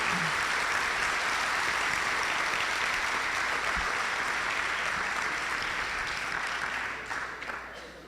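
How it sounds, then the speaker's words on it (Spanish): An audience at an academic conference on diesel-biodiesel blends claps continuously, a full, even round of applause that carries on throughout and begins to thin out near the end. "Démosle un fuerte aplauso nuevamente"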